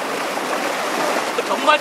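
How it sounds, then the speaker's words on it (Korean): Hot spring water flows down from the mountains and pours straight into the sea in Tunisia, making a steady, loud rushing torrent. A voice talks over the falling water. "산에서부터 흘러온 귀한 온천수가 바다로 쏟아지고 있습니다."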